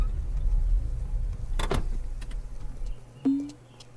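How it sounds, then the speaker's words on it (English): A pickup truck in the Farmer's Dynasty farming game is entered, with a sharp click and thump from the door and then a short rising mechanical whine, over a low steady engine hum, with no talking. "so we'll hop into the pickup truck."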